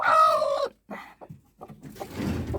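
A hen broods on a small country plot, giving a loud, drawn-out cluck followed by a few short, softer clucks and a burst of rustling, close by.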